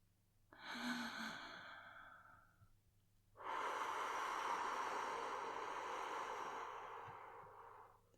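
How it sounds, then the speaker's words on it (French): A deep, drawn-out inhalation followed by a long, full exhalation, both close and clear with no one talking, during a calm, guided relaxation session. "Et prends une grande inspiration."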